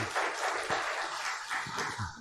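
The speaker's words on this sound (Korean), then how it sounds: "하나님께 영광의 박수를 올려드립니다." Congregation applauding inside a church during a Sunday worship service, a steady wash of many hands clapping for a couple of seconds, moderately loud and fairly close, with no talk over it.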